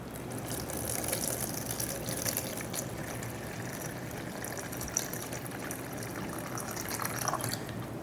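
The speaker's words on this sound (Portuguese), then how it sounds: "Agora a gente vai colocar água. A gente vai colocar 375 gramas de água" Water is poured steadily onto a zeroed kitchen scale in a craft workshop, a continuous close splashing stream that runs without pause for several seconds with no talking.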